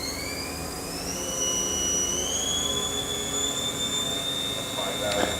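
A 2008 Haas VF3B CNC mill with a 20 horsepower two-speed gearbox and a new spindle runs at 2,000 RPM, giving a steady rising whine with sustained tonal hum. The sound holds constant, close and moderately loud, with no talking.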